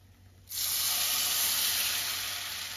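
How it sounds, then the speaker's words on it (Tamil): Hot sesame oil poured over green apple pickle sets off a sudden loud, steady sizzle that starts abruptly and holds as a bright, continuous hiss for a couple of seconds. "இந்த சூடான நல்லெண்ணெயை வந்து அதில் விட்டுட்டோம்னா அது நல்லா ஊறிடும்"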